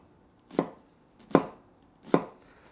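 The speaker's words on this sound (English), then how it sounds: "you're gonna be cutting the opposite way against the onion to make" A chef's knife dices an onion on a cutting board: three crisp, evenly spaced chops ring out close and clear against near silence.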